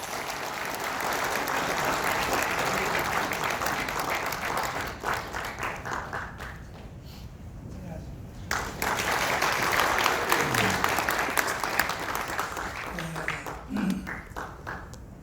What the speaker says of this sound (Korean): 정광훈 목사님의 국가 대개조 선언 및 기조연설을 큰 박수로 청해듣겠습니다